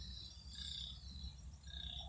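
A rice field at night holds a continuous chorus of frogs and insects, with a steady high shrill trill over a dense low croaking hum that never pauses.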